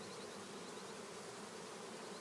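Honey bees swarm over a capped honey frame in a honey super, making a dense, steady, close buzzing that holds unbroken throughout.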